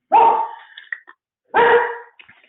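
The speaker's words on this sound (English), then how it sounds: "And my dog has decided to bark." A dog barks twice, each bark a loud, rough burst trailing off, with a short pause between them and no voices.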